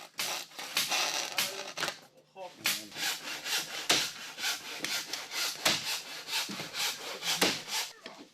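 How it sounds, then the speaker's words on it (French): A hand saw cuts lengthwise through a wooden attic panel in quick, rhythmic back-and-forth strokes, close and fairly loud, with a brief pause partway through before the sawing resumes. "Il faut encore scier le dernier panneau dans la longueur."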